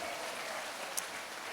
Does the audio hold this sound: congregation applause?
yes